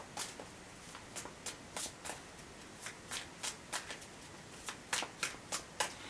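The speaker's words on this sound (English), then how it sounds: "So I'm going to pull some cards from the Muse Tarot here." Muse Tarot cards being shuffled by hand, a rapid series of about twenty crisp riffling bursts in an uneven rhythm, close and clear over quiet room tone with no talking.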